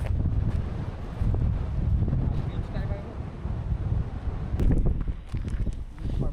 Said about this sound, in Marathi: वारा भरपूर आहे, खतरनाक वारा आहे